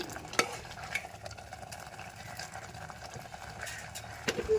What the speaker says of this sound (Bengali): এবার নেড়ে চেড়ে নেবো ভালো করে